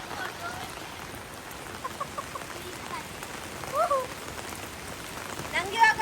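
Rain falling outdoors, a soft, steady patter across the whole stretch, with faint birdsong chirps rising briefly now and then above the wash of drops.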